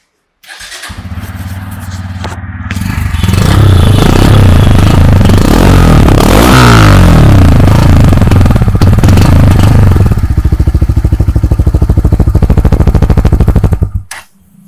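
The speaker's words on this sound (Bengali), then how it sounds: "তো প্রথমে বাইকটা আমি স্টার্ট করলে বুঝতে পারবে এক্সস্টের সাউন্ডটা।" A Bajaj Pulsar N160 motorcycle starts and idles close up, its underbelly exhaust putting out a loud, steady, rapid thumping burble with a brief rev near the middle before it cuts off at the end.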